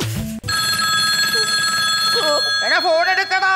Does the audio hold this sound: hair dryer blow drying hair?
no